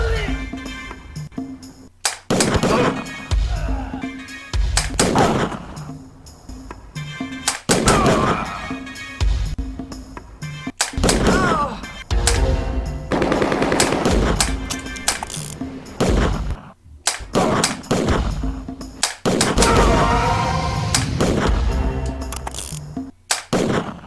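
Rapid bursts of gunfire from a light gun arcade shooter at a gang fight location, loud and close, with repeated sharp shots in quick clusters separated by brief pauses, mixed with game voices and music.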